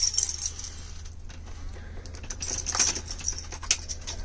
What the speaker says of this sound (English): Let me pull out the keys here.